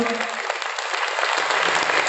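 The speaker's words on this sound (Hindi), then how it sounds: "एक बार दिल खोल के तालियां बजा दो" An audience at an indoor gathering claps loudly and steadily, a dense close burst of applause throughout.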